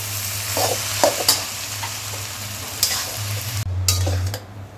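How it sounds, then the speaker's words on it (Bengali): Boiled Hakka noodles stirred into vegetables in a hot pan: steady frying sizzle with several scraping strokes of a utensil against the pan, close and fairly loud, and no talking. "এবার সেদ্ধ করে রাখা নুডলসগুলো মিশিয়ে দিচ্ছি"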